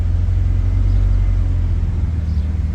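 A Honda or Acura engine after throttle position sensor calibration, heard as a loud, steady low rumble of idling and revving close by, with no talking.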